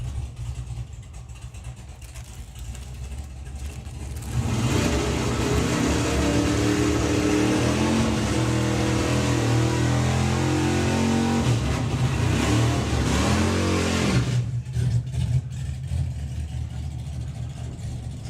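A drag racing car launches and accelerates hard down the strip, its engine roaring loud and rising for about ten seconds before fading, with a lower engine rumble before and after.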